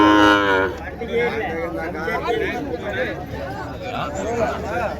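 Cattle at a busy livestock market in Tiruppattur district, with a loud low moo opening the scene, followed by more lowing and animal calls under the steady chatter of a crowd and people talking.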